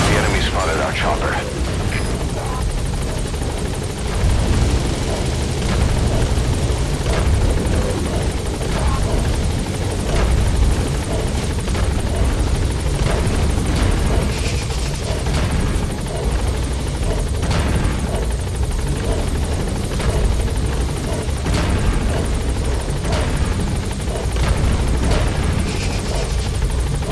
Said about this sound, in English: The enemy spotted our chopper.